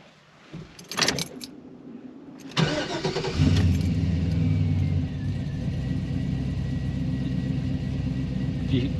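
Keys jingle, then an LS-swapped V8 in a 1957 Chevy truck cranks and fires up, settling into a steady, lopey idle that rumbles on nearby.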